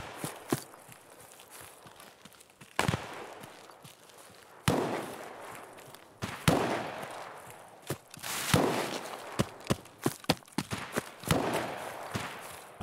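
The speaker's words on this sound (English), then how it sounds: "This gun sounds so sick." Sniper rifle shots in the video game Escape from Tarkov ring out as sharp, separate cracks at irregular intervals, loud and close, with a few louder reports among scattered lighter impacts and no talk.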